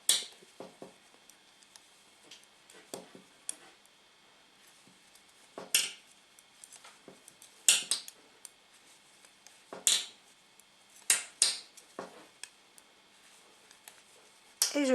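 Knitting needles click and tap in irregular bursts while mittens are knitted in rice stitch, close and fairly quiet, with faint room ambience between the clicks.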